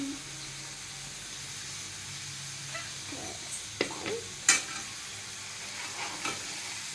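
Food sizzles in a pan as salt and chili powder are stirred in, a continuous frying hiss with occasional clicks and scrapes from the spoon, close up.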